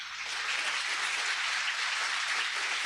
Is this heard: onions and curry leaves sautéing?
no